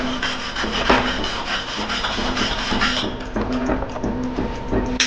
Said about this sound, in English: use the wire brush to clean the pass